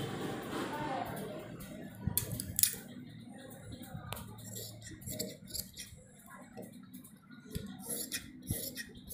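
Scissors snip cloth for a kurta in repeated short cuts and rustles, close and fairly quiet, with a voice talking over parts of it.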